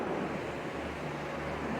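River water flows beside a hydroelectric power plant outlet on a mountain trail in North Carolina, a constant close rushing wash with a faint low hum underneath and no talking.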